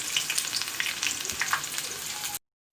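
Brinjal and potato rings frying in hot oil give a dense, steady sizzle with fine crackles and small pops, close and even for a couple of seconds before cutting off abruptly.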